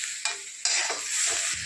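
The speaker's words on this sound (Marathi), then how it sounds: "हे बघा आता टमाटर टाकत आहे, ते पण परतून घ्यायचं आपल्याला" Tomatoes frying with onion in a hot pan give a loud, bright, continuous sizzle that jumps up in two sudden surges as they hit the oil, heard close with no voices.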